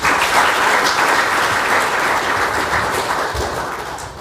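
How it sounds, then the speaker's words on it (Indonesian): At a church sermon, a congregation bursts into loud, sustained applause with many hands clapping densely at an even level. "Tepuk tangan sama Tuhan."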